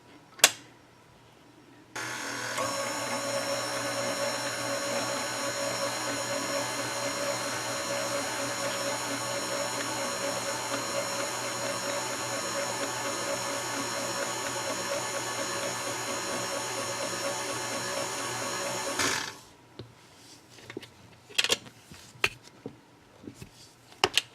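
A KitchenAid stand mixer hums steadily on low speed 2, mixing a crumbly pumpkin cranberry soda bread scone dough; a loud, even motor drone starts after a click, runs about seventeen seconds, then stops, followed by a few handling knocks.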